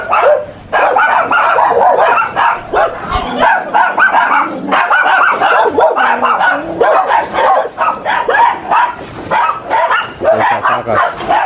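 Several dogs bark and yip close by in loud, repeated bursts, with occasional whimpers, at a rural house, and a voice speaks briefly between the barks.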